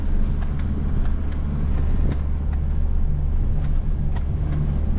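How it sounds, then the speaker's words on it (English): 4x4 off-road vehicle on all-terrain tires climbing in first gear, its engine held at high revs in a steady, loud drone with wind buffeting the microphone throughout. "I'm revving it higher, which maybe that causes traction loss, but it just feels really good to climb in first"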